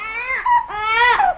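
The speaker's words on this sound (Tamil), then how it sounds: "என்னது குழந்தையின் அழுகுரல் சத்தம்?" An infant cries in loud, wailing bursts that rise and fall over about a second and a half, with no other sounds heard, set in a Tamil comedy film scene.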